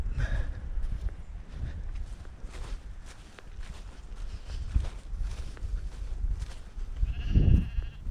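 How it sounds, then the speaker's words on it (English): Sheep out near hillside trenches, with a bleat rising near the end over scuffing footsteps and outdoor rustle, moderately close. "got some sheep"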